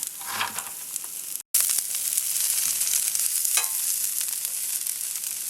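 Peppers, onions and mushrooms sizzle in oil in a pan over medium heat at a state park campsite, a steady dense frying hiss with brief stirring scrapes and one short dropout, no talk.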